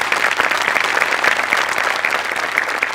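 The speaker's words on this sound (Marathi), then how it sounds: "गणेश सरांसाठी एकदा जोरदार टाळ्या होऊन जाऊ देत." Studio audience applause on a Marathi comedy show, a dense steady wash of many hands clapping throughout, loud and close with no talk over it.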